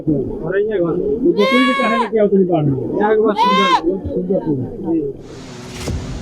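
A goat carried on a man's shoulder through fast-flowing floodwater in Bihar bleats loudly twice, long wavering cries up close over a steady churn of rushing water.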